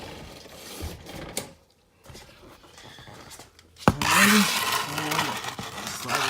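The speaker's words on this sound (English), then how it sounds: "Slide the drain pan because I do not want it to spill everywhere" A drain pan slides beneath a 2008 Ford Taurus during a thermostat job, a sudden close plastic scrape with squeaky grinding. Quieter shuffling and clunks come first.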